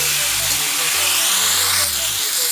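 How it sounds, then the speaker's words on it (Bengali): Fish curry sizzles in a hot pan while being stirred with a spatula, giving a steady loud hiss with a low hum running underneath. "আমি হাতলার সাহায্যে ভালো করে নেড়ে চেড়ে দেবো এইভাবে"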